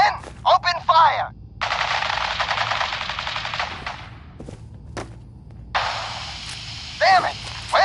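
Automatic gunfire in the Fallout 4 video game, two long sustained bursts of rapid shots, close and loud, with brief voices and thuds around them.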